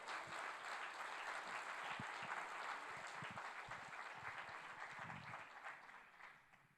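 Sustained applause from a church congregation during a Spanish-language service, a dense, steady wash of many hands that holds strong and fades slightly toward the end.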